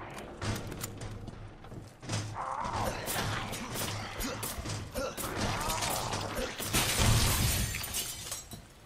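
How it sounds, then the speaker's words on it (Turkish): A glass window shatters in Resident Evil 2: loud crashing and breaking glass with scattered tinkling debris, thick with clattering game effects. "Oha kırdı camı"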